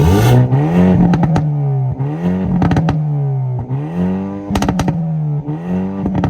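A Hyundai i30N hot hatch in Sport Plus mode with its exhaust setting on revs hard several times, the engine note rising and falling with sharp pops and crackles between blips, loud and close.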